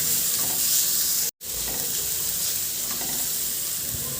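Garlic and onion sauté in a pan for a mung bean stew, giving a constant close sizzle and hiss with light stirring clatter, broken by a brief dead-silent gap partway through.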